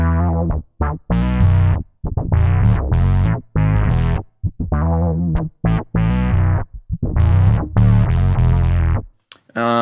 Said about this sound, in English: It has the chorus engaged and also the room reverb, and it sounds like this.